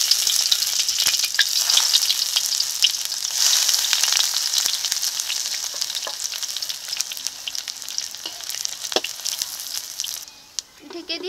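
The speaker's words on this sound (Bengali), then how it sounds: "এই তেলে এখন কুমড়ো পাতাগুলোকে ভেজে নেব।" Pumpkin leaves frying in hot white oil in a wok for a giant prawn dish, a loud, crackling sizzle that dies down toward the end, with scattered pops and a brief clatter at the close.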